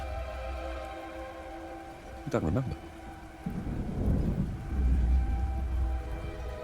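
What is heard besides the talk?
rain and thunder of a storm in the video game Warhammer Age of Sigmar Realms of Ruin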